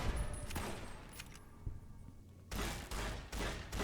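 Trail carbine gunfire aimed at turrets in the Fallout New Vegas game, with scattered shots early on and then a few loud, heavy bursts of firing toward the end, no talking.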